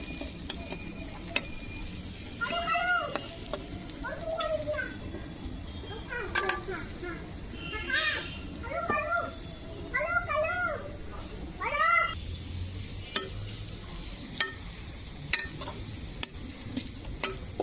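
Onions fry in a pan over a strongly burning stove on a rooftop, a steady sizzle with stirring clatter, while a cat meows repeatedly nearby.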